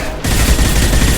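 A loud, rapid burst of automatic gunfire from the sci-fi shooter game Mass Effect 2 erupts after a brief quiet moment and continues as a dense, close rattle.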